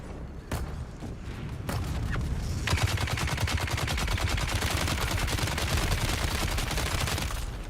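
Guns in the Dune: Awakening video game open up with a few single shots, then settle into sustained rapid automatic fire that is loud and continuous for several seconds, with no talking.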